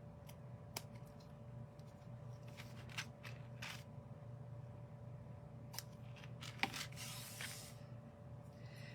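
A few quiet, crisp snips of ribbon scissors cutting ribbon, spaced out over a steady low hum, with a brief rustle near the end.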